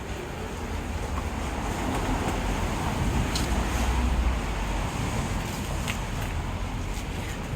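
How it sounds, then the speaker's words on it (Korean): Steady car traffic roars through an open window into a room, forming a dense, continuous wash of road noise with no breaks and no voices. "차 소리가 너무 많이 나가지고 제가 문을 닫았어요"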